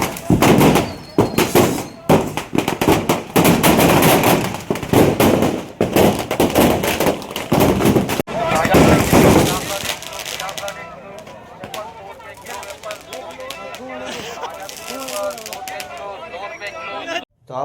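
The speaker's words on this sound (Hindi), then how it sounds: "दीपावली की वजह से बस स्टैंड पे आग लग गई थी मेरे पूरे पटाखे की दुकान" Firecrackers burst in rapid, dense crackling volleys inside a burning firecracker shop at a bus stand during Diwali, loud and continuous for about ten seconds, then thinning into scattered pops as voices and crowd noise take over.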